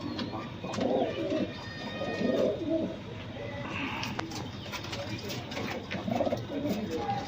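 Pigeons kept as high flyers coo in soft, repeated low bursts over a steady background murmur, with a few faint chirps mixed in.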